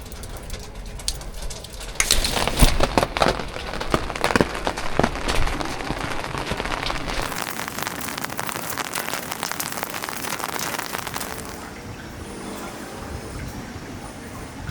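Steady rain patters and hisses outdoors in Genoa, Italy, with birds cooing faintly in the background; the downpour eases to a softer drizzle near the end.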